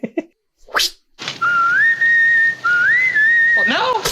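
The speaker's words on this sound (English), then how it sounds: "All right, well, whistle when you're ready." A person whistles a signal from a 1944 film scene, two rising and then sustained clear tones that are loud and close, preceded by brief thumps and rustles.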